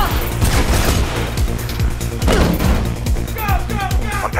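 Rapid gunfire bursts in Mirror's Edge crackle through dense, busy game audio, with several sharp cracks and thumps layered over a constant roar and scattered high chirps.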